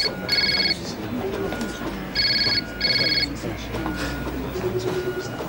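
A telephone rings in three short electronic bursts with gaps between them, fairly close, over a low background murmur of indoor activity.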